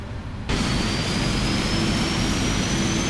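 Engine number 2 of a Boeing 777-300 spools up in Microsoft Flight Simulator 2020, cutting in abruptly as a loud, steady jet roar with a slowly rising whine, heard from outside the aircraft.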